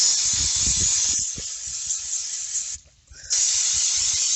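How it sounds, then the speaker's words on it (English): A steady, loud hiss of flammable starting fluid sprayed on a Honda GCV160 small engine runs continuously, briefly cutting out for a moment before resuming, with faint low knocks underneath. "I'm spraying some flammable substance"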